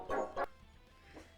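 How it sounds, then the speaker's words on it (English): A dog gives two close, sharp barks at the door in quick succession, then a fainter third yip after a short pause. "And now I think they're barking at the door."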